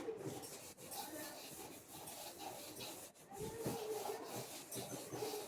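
A board is rubbed clean to erase it, giving steady scraping, brushing strokes close by with no voices.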